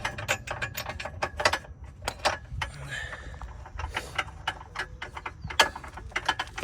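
Ratchet wrench clicking while tightening a bolt on the suspension of a 2017 Infiniti Q60 AWD being rebuilt, quiet irregular bursts of ticks with small metallic knocks and brief pauses.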